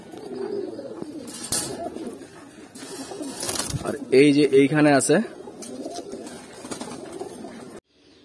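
Pigeons coo in a loft housing hundreds of birds, including silver and khaki varieties, with a bubbling rhythmic cooing rising clearly in the middle amid light bird calls, while someone talks nearby.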